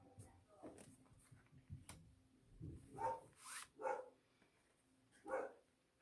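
A pet dog barks in short bursts at a package delivery, three or four sharp barks spaced a second apart, fairly close and indoors, with quieter sounds and muffled talk earlier.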